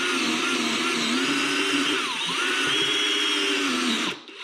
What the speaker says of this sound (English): I've got a step bit, and we're just gonna get into it here.